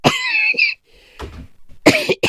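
A man in a shed coughs in a few sharp, harsh bursts close to the microphone, with short pauses between them and some throat clearing.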